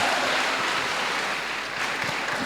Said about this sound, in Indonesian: tepuk tangan dong untuk Luar teman-teman